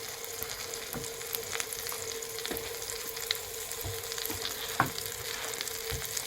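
Smash burger beef patty frying on a hot flat pan, a steady close sizzle with occasional sharper crackles and spatters, moderately quiet, with no voices.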